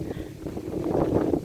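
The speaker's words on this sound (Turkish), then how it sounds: "Çok rüzgar var." Gusty wind buffets the microphone in a village garden with low rumbling bursts that build toward the end.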